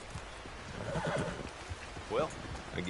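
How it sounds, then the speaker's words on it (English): A horse whinnies twice in a video game with a bright, wavering neigh, over a steady low background and faint hoof clatter. "Wow, fine horse there."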